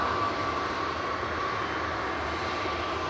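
A TUI Boeing 787-9 airliner touching down at Manchester Airport after a flight from Bridgetown, its broad engine roar steady and fairly close, without speech.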